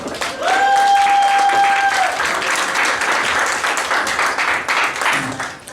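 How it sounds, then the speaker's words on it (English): Audience at a poetry slam bursts into loud, dense applause that holds steady for several seconds and then tapers, with a whistle cutting through near the start. "but first, manual applause for Kaleem!"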